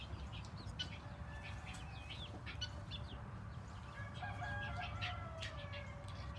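Newly brought home guinea fowl and chicks give overlapping high chirps and peeps, with a few longer calls, constant and moderately near over a steady low background hum.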